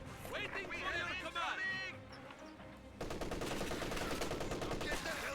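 MG34 and Maxim machine guns trade sustained bursts in a Company of Heroes 2 match, with rapid fire rattling over battlefield noise and voices, then a denser, louder stretch of continuous firing.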